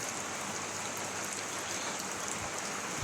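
Downpour of heavy rain, a dense continuous patter and hiss of drops striking surfaces nearby, constant in loudness throughout, with no speech over it.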